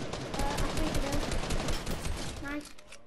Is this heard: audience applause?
no